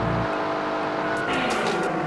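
KITT from Knight Rider drives in the PS2 video game, its engine droning at a steady, fairly loud pitch with a brief whoosh as it moves through the scene.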